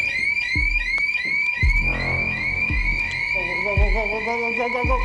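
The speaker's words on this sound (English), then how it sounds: "A loud alarm erupts on the third floor." A loud electronic alarm blares continuously in a steady, repeating tone on the third floor of an abandoned building, while heavy thuds and footsteps sound beneath it.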